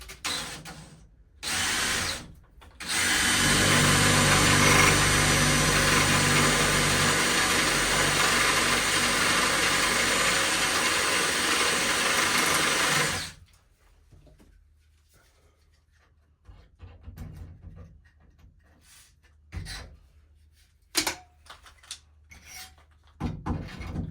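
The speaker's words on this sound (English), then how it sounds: "Okay, let's start drilling this out." A drill cuts a hole through the side of a narrowboat, with a couple of short bursts and then one long, loud, continuous grinding run that stops abruptly, followed by quiet clanks and handling noises.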